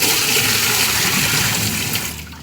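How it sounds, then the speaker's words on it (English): Water thrown into a washing machine that has a drain problem: a loud, rushing gush of pouring water that fades in its last half second. "I'm going to throw some water inside of it"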